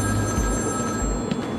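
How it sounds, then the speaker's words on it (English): A phone rings in the video game Batman: Arkham City, a steady electronic ring held over a dense, loud game background. "You'll also notice that there's a phone ringing."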